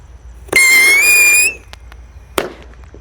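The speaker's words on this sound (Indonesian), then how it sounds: "di sini ada roket pirotor. Kita nyalakan." A rocket firework is lit and launched with a sharp pop followed by a loud rising whistle lasting about a second, then a second crack a moment later.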